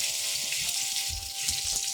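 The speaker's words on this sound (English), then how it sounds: "I'm gonna go ahead and put this nice juicy steak in the pan so it can cook on both sides. Ooh, it's sizzling" Rib eye steak sizzles and crackles steadily in a hot pan, a bright continuous hiss with a faint hum beneath.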